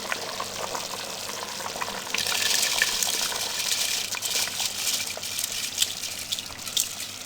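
Soaked steamed rice, 1.5 kilograms, is tipped into a pot of boiling water for a chana pulao, starting as a quiet bubbling before a sudden loud rushing pour that lingers with spattering and simmering.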